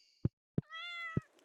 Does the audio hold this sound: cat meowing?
yes